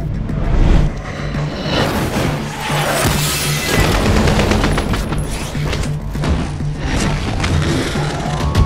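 Loud, rapid gunfire and heavy crashing impacts in Battlefield 4 around an M40A5 bolt-action sniper rifle, a Remington 700 variant, with dense overlapping shots and booms throughout and no talking.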